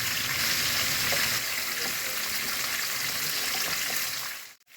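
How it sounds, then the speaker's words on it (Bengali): Chopped onions frying in hot oil with a little water, giving a steady, close, dense sizzle that runs evenly and then cuts off abruptly at the end. "পেঁয়াজ দিয়ে দিলাম তেল গরম হয়ে গেছে পেঁয়াজটা কম জলে ভাজবো"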